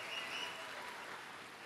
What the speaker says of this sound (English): Can y'all give them a round of applause?